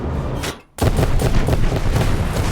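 Explosives detonating: a brief hush followed by a sudden, loud blast that rolls on as a dense, rumbling roar of debris and echo for the rest of the moment.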